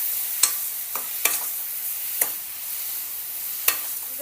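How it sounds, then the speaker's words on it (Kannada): Radish fries in a pan over a low flame, a quiet even sizzle beneath a handful of sharp, well-spaced taps and scrapes of a spoon stirring the pieces, with no one speaking. "ಮೂಲಂಗಿ ಹಸಿ ವಾಸನೆ ಹೋಗೋವರೆಗೂ ಒಂದು 5 ನಿಮಿಷ ಸಣ್ಣ ಉರಿ ಒಳಗೆ ಈ ರೀತಿ"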